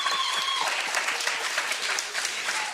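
A live audience at a Fort Monroe radio broadcast marking the 404th anniversary of the first Africans' landing gives a steady round of dense applause that stays loud and even throughout, with no talking over it.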